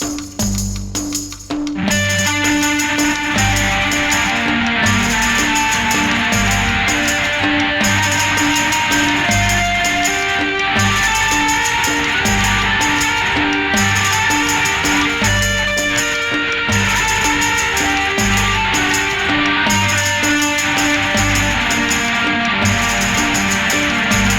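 A busy synth arpeggio cycles rapidly through a gritty, distorted tone from a Resonator effect, dense and loud throughout, with no voices.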